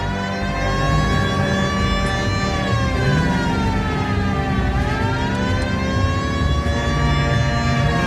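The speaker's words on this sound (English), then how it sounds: "Hit the siren." Police car siren in L.A. Noire, a loud wailing tone sweeping slowly down and back up, with layered harmonics over steady engine and road noise throughout.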